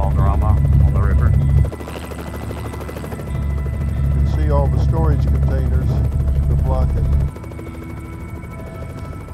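A DPS police helicopter flies near a river at the Mexican border, its loud steady rotor thrum dropping and returning as someone talks over it.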